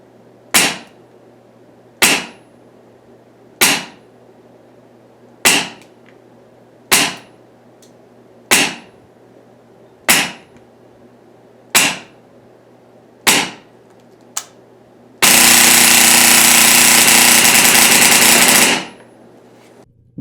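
SMP HPA airsoft gun at 90 psi with a Redline SFR regulator, nine sharp, evenly spaced single shots followed by a loud sustained burst of rapid fire lasting a few seconds.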